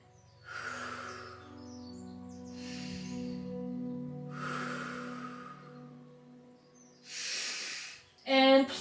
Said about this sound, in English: We're gonna stay here for 3 full breaths.